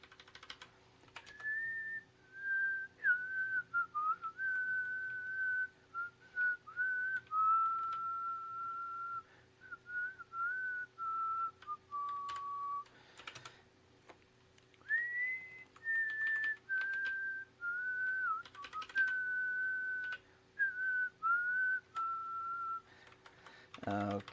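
A person whistles a wandering melody in short phrases with small pauses, close and fairly soft, over light keyboard typing in a quiet room.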